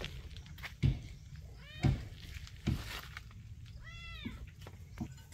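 A kitten meows twice in a hut, in drawn-out rising and falling cries, among a few dull thumps and knocks nearby. No one speaks.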